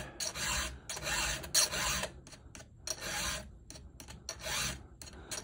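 A round file strokes back and forth across a chainsaw tooth, reshaping the metal in steady rhythmic rasps, about six close, loud strokes with brief pauses between them.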